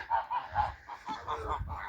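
Domestic geese honk in a short run of loud, nasal calls close by, several overlapping in quick bursts on a farmyard.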